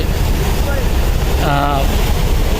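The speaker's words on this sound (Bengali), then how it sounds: "অ্যাডভেঞ্চার এক সুন্দরবন ষোলোকে ওভারটেক দিয়ে সামনে দিকে এগিয়ে যাচ্ছে" A crowded passenger launch pulls past another launch on a river on the Barishal to Dhaka route, a steady roaring wash of engine and wind noise with a brief wavering horn-like tone partway through.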